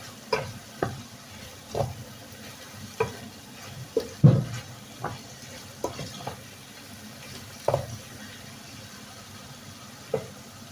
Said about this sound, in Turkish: Hemen domatesini karıştıracağım.